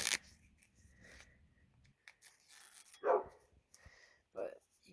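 A dog barks a few short, sharp times at close range, the barks separated by quiet gaps and brief scraping noises indoors.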